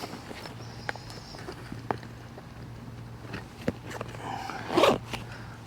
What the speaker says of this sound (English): It only zips about halfway on this side, or unzips rather, but it fully unzips on this side.